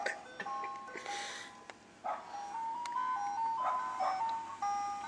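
An ice cream truck in North Idaho plays its tinkling electronic jingle, a bright melody that carries over steady outdoor background noise, with a dog barking now and then.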